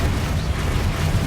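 A Bombarda blasting spell detonating in Hogwarts Legacy, a loud, dense low rumbling explosion that stays continuous and heavy for about a second, with no talk over it.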